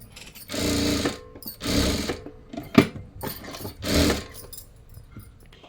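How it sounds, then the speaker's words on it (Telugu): A sewing machine stitches the lining of a boat-neck blouse in four or five short bursts of rapid, close mechanical whirring, separated by brief quiet pauses and a single sharp click. "ఈ విధంగా ఇలా పెట్టేసుకొని మొత్తం అయితే స్టిచ్చింగ్ అయితే చేసేసుకోవాలి"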